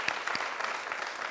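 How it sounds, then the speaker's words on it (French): A studio audience on a television comedy programme applauds, heard as a brief, dense, even patter of many hands clapping at moderate loudness. "Donc il faut applaudir très très fort."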